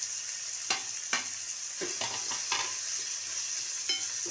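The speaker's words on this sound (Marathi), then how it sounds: "कोकम पण झाले याच्यामध्ये ते चांगलं फ्राय होऊन द्यायचं पावडर मसाले पण टाकायचे त्याच्यामध्ये" Dried fish frying in a pan with kokum, tomato and powdered spices, a steady faint sizzle broken by several sharp scrapes of a spoon stirring, no voices.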